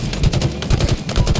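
Rapid bursts of automatic gunfire from a Halo Infinite Team Slayer match, several loud close shots in quick succession across a short moment, with no talking.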